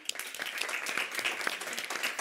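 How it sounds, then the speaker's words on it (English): Audience applause at a quantum science award ceremony, a brief burst of steady clapping from a room of people, moderately distant and fairly faint. "applause for all three"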